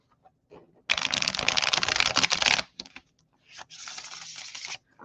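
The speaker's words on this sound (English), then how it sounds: "I'm going to shuffle the old-fashioned way." Tarot cards shuffled by hand, a dense crisp riffling burst lasting nearly two seconds, then a short pause and a second shorter run of card flicks, close and alone.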